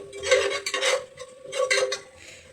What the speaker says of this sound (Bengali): নিচে যেন লেগে না যায় সেদিকে খেয়াল রাখতে হবে অনবরত নেড়ে চেড়ে দিতে হবে